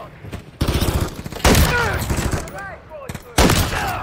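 Call of Duty Modern Warfare 3 firefight, with loud bursts of rapid automatic gunfire in several clusters, close and punchy, separated by brief lulls where whizzing and ricochet-like sounds ring out.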